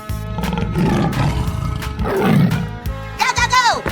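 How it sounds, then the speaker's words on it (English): A big cat roar from a 3D animal slide video game, a loud drawn-out growl swelling in the middle over busy game music, with a short bright sound near the end. "Tiger."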